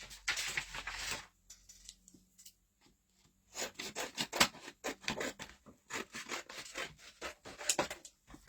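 A sheet of paper is cut down during a craft session, giving quiet, rhythmic rasping strokes in short bursts with a brief pause near the start and no talk.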